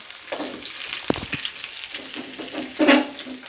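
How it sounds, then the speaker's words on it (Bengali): Onions frying in mustard oil, a steady close sizzle with a few sharp scraping stirs of a spatula in the pan near the middle. "পেঁয়াজ দিয়ে একটু সরিষার তেলগুলো একটু ভালোভাবে নাড়িয়ে চাড়িয়ে নিচ্ছে"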